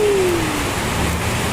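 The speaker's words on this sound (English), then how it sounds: "So this is one of rainy days in the Philippines." Steady rain pours down outdoors on a wet day in the Philippines, a dense, even hiss that holds close and loud throughout, with a faint engine-like tone fading in the first moments.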